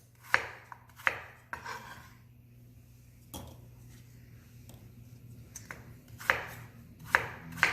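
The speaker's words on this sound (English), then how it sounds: "we're just going to continue to cut our apples till we get them all nice and diced." Apples diced with a knife on a cutting board, heard as sharp, close chopping knocks in scattered clusters with quiet pauses between them over a faint background hum, with no talking.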